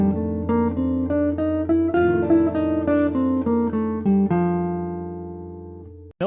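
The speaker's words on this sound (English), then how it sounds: "the F dominant bebop scale would sound like this" A quick, even run of single notes climbs and descends an F dominant bebop scale on a clean, bright instrument, ending on a held note that rings out.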